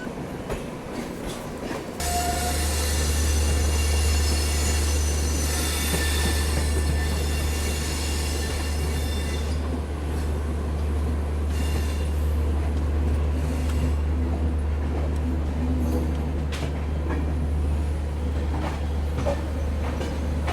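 A Mumbai local train rumbles past close alongside a Mumbai Duronto express, its wheels clattering over a continuous low drone, loud and unbroken for about twenty seconds.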